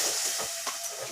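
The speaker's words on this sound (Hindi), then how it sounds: "अब मैं टमाटर डाल दूँगी" Tomatoes land in a pan of frying chicken and browned garlic, and a brief, bright sizzling hiss flares up close with no talking.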